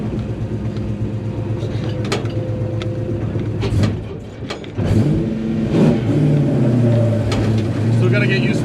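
A 1970 Dodge Coronet with a swapped 6.1 HEMI engine rumbles at a close idle and then revs, its pitch rising and falling in deep surges, while people talk over it.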